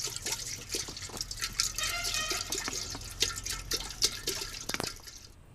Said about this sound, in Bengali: এবারে আমি হাঁড়িতে কিছুটা পানি দিয়ে দেবো